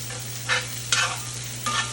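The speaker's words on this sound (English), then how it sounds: "Mix them up in the oil to make sure they're getting the goodness." Onions and garlic frying in oil in a cast iron pan, a steady low sizzle broken by three brief stirring scrapes, close and clear with no talking.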